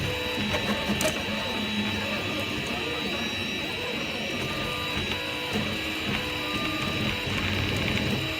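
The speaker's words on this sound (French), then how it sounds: "Donc là je suis en train d'imprimer une petite statue sans support" A Discovery 200 3D printer prints a small statue without supports using Poliwood filament, giving a steady whirring of stepper motors with gear-like ticks and ratcheting, continuous and close.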